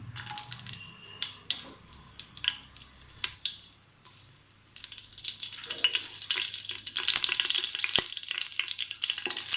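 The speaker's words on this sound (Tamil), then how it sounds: "சோம்பு நல்லா பொரிஞ்சதுக்கப்புறமா பச்சை மிளகாய்" Fennel seeds and green chillies frying in hot oil for goat leg paya curry, a steady close crackle and sizzle with bright hissing bursts that swell louder toward the end, no voices.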